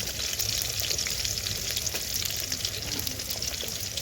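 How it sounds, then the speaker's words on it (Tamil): Dried red chilies frying in a pan, a dense continuous crackling sizzle with faint stirring noises, steady and close with no speech. "இந்த வரமிளகா போடுறேங்க."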